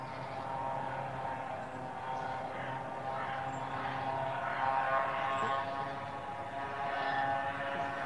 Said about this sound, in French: Je vais attendre que la moto soit passée.